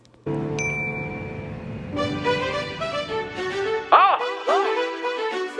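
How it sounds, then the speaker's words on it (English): A single bright notification bell ding rings out and lingers briefly, followed by voices talking. "hit the notification bell"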